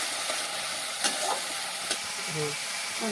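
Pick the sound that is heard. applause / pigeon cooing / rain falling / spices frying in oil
spices frying in oil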